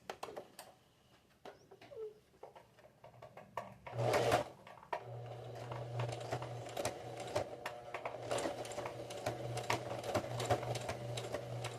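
A domestic sewing machine stitches a small fabric scrap near a zipper on a pouch, with a steady buzzing run after a few clicks and a brief clatter, close and continuous.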